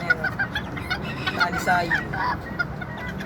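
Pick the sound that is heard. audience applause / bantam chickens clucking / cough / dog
bantam chickens clucking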